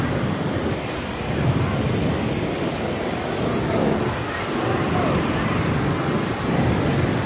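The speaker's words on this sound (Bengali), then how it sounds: "সমুদ্রের ঢেউটা অনেক বেশি ভালো লাগে।" Sea waves wash onto a beach in Bangladesh with steady broadband surf and wind noise filling the background, moderately loud and continuous.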